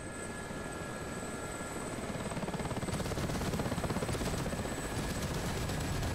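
A Ka-50 helicopter flies in the DCS combat game, its rotor producing a steady, loud thudding drone with a fast chop that swells slightly and stays constant throughout, with no voices.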